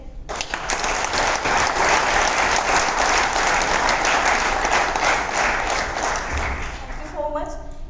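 A large hotel conference audience at a guest speaker event in Goa bursts into loud, sustained applause that carries on evenly for several seconds before tapering off.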